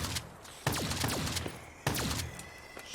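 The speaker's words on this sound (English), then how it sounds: "Shooting the bugs." Rapid bursts of gunfire from a Call of Duty Zombies video game as players shoot at bug enemies, two loud volleys with trailing whines and ringing, no talking over them.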